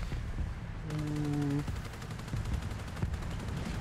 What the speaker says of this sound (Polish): Ach, te strzały.